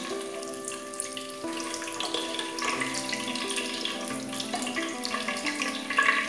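Egg halua mixture is poured into a pan warmed with cinnamon, making a continuous liquid pouring sound with a gentle watery rush and faint sizzle throughout.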